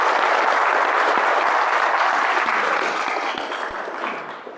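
Dense audience applause from a crowd at a street hypnosis demonstration, loud and steady at first, then gradually thinning and fading toward the end.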